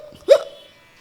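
A voice mimics a hiccup with one short, sharp, gulping yelp that quickly trails off, loud and close.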